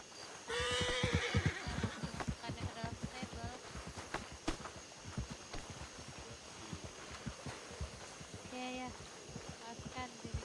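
Horse in GTA V neighs loudly near the start, then hooves clip-clop steadily throughout, with a second whinny near the end, all under game background noise and some talk.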